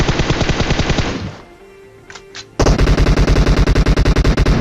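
Rapid automatic gunfire in a video game firefight, loud bursts of evenly spaced shots that stop for a pause with a faint clink or two, then resume in a sustained fast rattle.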